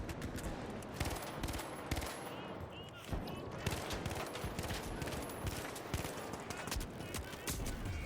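Turret gunfire rattles in The Finals, an online shooter, as bursts of rapid automatic shots repeat close by against dense game noise. Shots stay loud and frequent throughout, with brief pauses between volleys.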